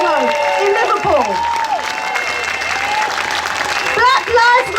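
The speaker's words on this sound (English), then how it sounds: "I'd like you to all give him a round of applause" A crowd at an anti-racism, anti-austerity solidarity rally breaks into loud, sustained applause, with whoops, whistles and voices mixed in throughout.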